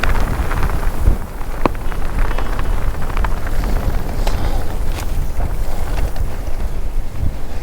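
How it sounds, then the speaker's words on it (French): Strong wind roars continuously against the microphone on a mountain bike ride in Menorca, a dense rushing noise with occasional faint ticks and knocks beneath it. "regardez un peu le vent là, c'est juste dingue"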